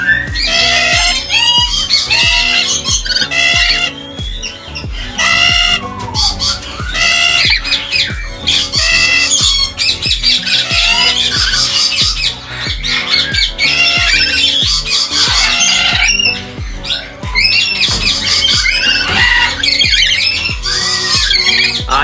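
Lorikeet and rosella parrots squawking during breeding season, a loud, constant chorus of harsh, shrill calls that overlap with no pause for over twenty seconds.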